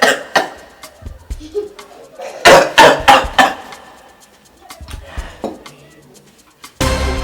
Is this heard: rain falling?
no